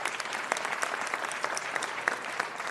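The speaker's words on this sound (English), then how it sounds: "Everybody ought to clap their hands for that." An audience at a city council meeting breaks into steady applause, a dense, even wash of clapping that holds for the whole moment without talk.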